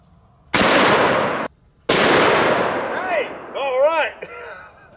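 Two booming shots from a double barrel elephant rifle firing 350 grain jacketed hollow point rounds at a 90 lb slam ball, each a sharp, loud blast with a long ringing tail, followed by a voice speaking.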